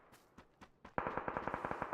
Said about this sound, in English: Someone else shooting all the way out here, man.